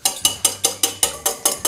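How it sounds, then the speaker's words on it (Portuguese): A large egg is beaten by hand with a wire whisk in a bowl, giving eight quick, even scraping strokes about five times a second, close and clear with no talking. "Você pode bater assim com batedor de aro ou então na batedeira."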